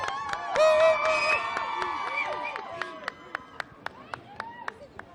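A crowd welcoming Miss Universe Iris Mittenaere back in Lille cheers and shouts with high excited voices, then settles into scattered sharp claps near the end.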